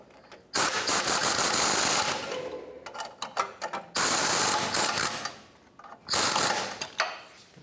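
Rapid bursts from an air impact tool tightening 13 mm exhaust bracket bolts on a 2013-2019 Ford Escape during a front catalytic converter replacement, three loud buzzing runs of about 1.5 seconds each with short rattling gaps between them.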